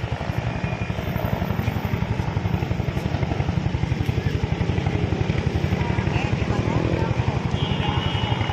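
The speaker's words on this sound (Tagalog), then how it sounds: "Helicopter po, ito po ata helicopter ng Navy natin" A Navy helicopter flies over Manila Bay, its rotor producing a steady, rapid thudding chop that stays loud and close throughout.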